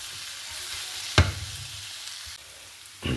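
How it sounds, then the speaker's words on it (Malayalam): Biryani ingredients fry in a pan, a soft, steady sizzle with a sharp stirring scrape partway through and another stir near the end. "ഞാൻ പാനിലേക്ക് ഇൻഗ്രീഡിയൻസ് ആഡ് ചെയ്യാണ്."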